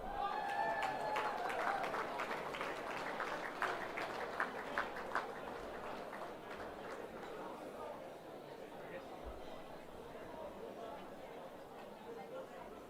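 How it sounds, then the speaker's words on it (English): Applause at a football netball league awards night, brisk clapping at the start that thins into a softer, scattered patter with crowd murmur and chatter underneath. "A big round of applause to our leading goal kickers in both senior men's and senior women's competitions."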